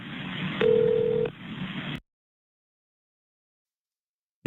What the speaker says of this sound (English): I just need to, in good conscience, at least pick up the phone and make the call.